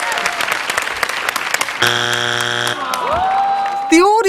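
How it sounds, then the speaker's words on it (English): A game show studio audience claps and cheers loudly in a dense burst, then electronic game tones and sustained synthetic notes cut in, followed by a warbling sweep at the end. "the audience would cheer and clap as though they were doing well"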